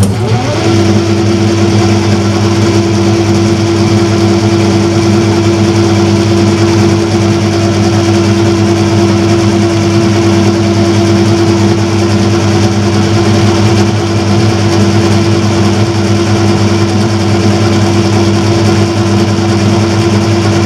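A metal lathe with newly working change gears runs at a raised speed. It gives a loud, constant close whine and hum with steady tonal bands, unbroken for about twenty seconds, and no one talks.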